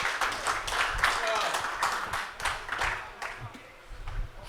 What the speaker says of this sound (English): can we give him a big round of applause?